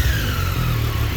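A 2018 Triumph Street Triple RS motorcycle engine revs loud and close, a brief strong burst with a rising whine over a deep rumble.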